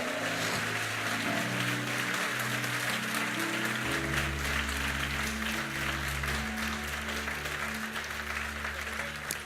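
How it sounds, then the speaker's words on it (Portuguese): A church congregation applauds steadily during a worship service, dense clapping continuing throughout over sustained low organ or keyboard chords and a soft hum of voices. "dê um glória a Deus e aplauda o Senhor Jesus"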